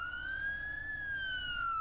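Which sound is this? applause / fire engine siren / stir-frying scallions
fire engine siren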